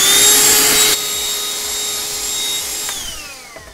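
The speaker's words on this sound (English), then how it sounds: "using sort of like a little shop vac, and I have a little brush on this one, so you can get one of these anywhere, and it's good to sort of get the dust off" A small shop vac fitted with a brush attachment sucks dust off a vintage RC plane wing during a Monokote covering job, a loud steady whine that drops in pitch partway and winds down at the end.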